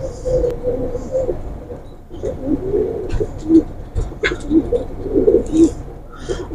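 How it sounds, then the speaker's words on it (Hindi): A male kamagar pigeon cooing up close in repeated soft, throaty phrases, with a few faint chirps from other birds in the background. "माशाल्लाह छोटे नूर का कबूतर है दोस्तों।"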